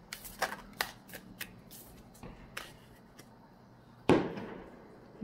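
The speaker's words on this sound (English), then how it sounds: "somebody's still got their little bit of fireworks left and they're trying to use it." Fireworks going off outside: a series of sharp, distant pops and crackles spread across the clip, with one louder, closer bang near the end trailing into a brief rumble.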